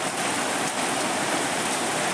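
Heavy rain with big drops falls steadily in Lakhimpur under dark clouds, a dense, even hiss of drops hitting surfaces that stays loud and unbroken throughout, with no voices.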